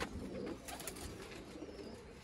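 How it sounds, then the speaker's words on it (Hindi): Sialkoti rooftop breeder pigeons coo softly and faintly in low, rolling calls over a steady background hiss, with no talking. "सियालकोटी छत वाले कबूतर दोस्तों"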